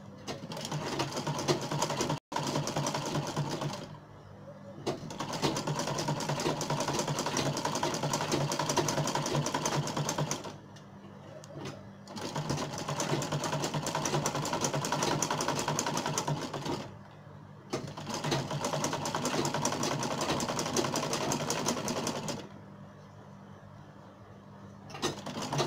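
A sewing machine runs in long continuous bursts stitching the zipper seam of a front-zipper pencil skirt, with three short pauses between runs, close and steady, no talking.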